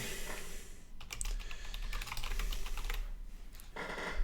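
Computer keyboard typing fills the stretch, a rapid run of close, crisp key clicks with a short pause near the end, then a final burst.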